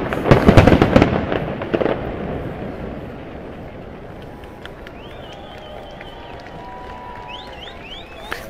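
A fireworks display at a waterfall illumination ceremony, with a quick run of loud, close bangs and crackles in the first two seconds fading into a rumbling tail, then thin whistling shells rising later over a steady outdoor hush.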